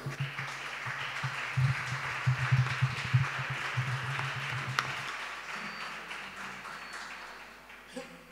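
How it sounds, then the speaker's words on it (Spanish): An audience at a flamenco performance in Cádiz applauds to welcome the singer, clapping softly over a low hum, then tapering off into quiet room noise. "Recibámoslo con un aplauso."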